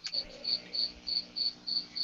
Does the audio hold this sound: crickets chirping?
yes